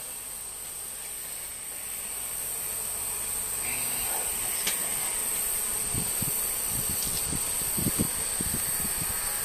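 Honeybees drone steadily at an open hive, a dense continuous buzz close by with a few soft knocks and bumps from handling near the end; no talking.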